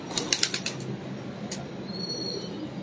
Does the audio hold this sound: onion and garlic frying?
no